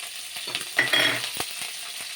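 Green chillies and curry leaves fry in a pan, a steady close sizzle with bursts of stirring and spoon scrapes around the middle, with no voices.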